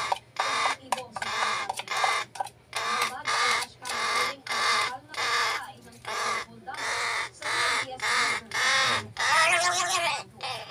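A pet crow caws loudly and close, giving a long run of repeated harsh calls in a fairly steady rhythm, each separated by short pauses, with a few rougher squawks toward the end.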